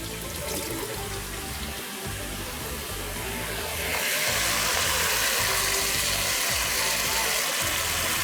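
Soaking water pours off rice being drained in a home kitchen, a continuous close rush of running water that swells louder halfway through, with no talking.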